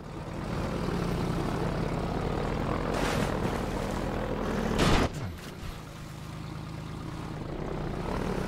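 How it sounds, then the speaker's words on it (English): A helicopter in the VR video game Half-Life 2 flies close by, with a steady droning engine and a whirring rotor. A sharp burst lands near the middle, and then the drone carries on slightly lower. "you can't kill the chopper"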